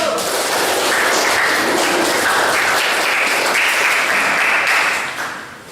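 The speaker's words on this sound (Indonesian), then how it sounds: "beri aplaus untuk kelompok 1" Sustained applause from a classroom audience for a presenting student group, dense steady clapping lasting about five seconds before tapering off at the end.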